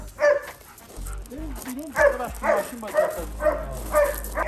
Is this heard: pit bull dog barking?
yes